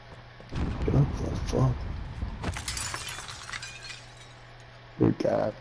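Glass shattering in Call of Duty: Warzone, one sharp burst of breaking glass with a brief tinkling tail, set between bits of a voice chat.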